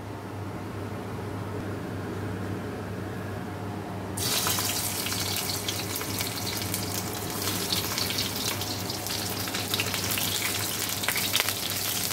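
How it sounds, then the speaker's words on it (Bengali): Crushed garlic and chili hit hot oil in a pan, and the quiet background suddenly bursts into a loud, sustained hiss and sizzle that keeps crackling until the end, with no voices. "এই যে তেলটা গরম, রসুনটাকে দেবো, তো লঙ্কা দেবো"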